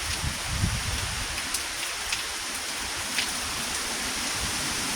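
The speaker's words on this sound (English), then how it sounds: "Wind is blowing the rain onto this porch over here." Steady heavy hurricane rain, blown by wind onto a porch, hisses and patters nonstop, with scattered louder drips and a low gusty rumble underneath.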